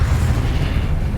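Confringo spell blast from the video game Hogwarts Legacy, a loud, dense rumbling boom with heavy low end that holds steady across the whole moment, with no voices over it.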